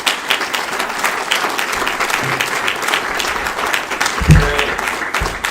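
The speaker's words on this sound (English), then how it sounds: "Let's give them all a round of applause." A community gathering's audience gives a round of applause, a loud, continuous clapping crowd with a few cheers and a heavy thump near the end.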